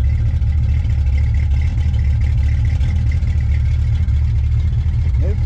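A 1968 Chevrolet Impala with a 5.7L V8 idling, a deep steady rumble with a throbbing low burble, close and continuous, voices faintly in the background.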